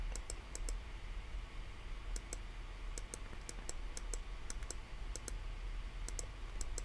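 Crisp computer mouse clicks while working in RockSim rocket design software, coming in quick pairs and small bursts at irregular intervals over a steady low hum of room noise.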